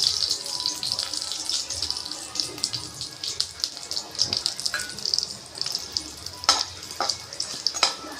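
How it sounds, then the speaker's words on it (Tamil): Spices sizzle and crackle in hot oil for a kurma, a dense, continuous frying hiss with scattered sharp pops and occasional stirring clinks, heard close up without talk. "இந்த ஸ்பைசஸ் எல்லாத்தையும் ஒன்று ஒன்றா ஆட் பண்ணிக்கலாம் நல்லா ஆட் பண்ணி கொஞ்சம் பொரியட்டும்"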